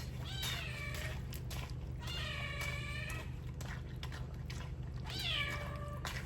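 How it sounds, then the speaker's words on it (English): A kitten meows loudly and insistently three times, each call a rising-then-falling whine, close to the listener over a steady low kitchen hum. "And a loud kitten."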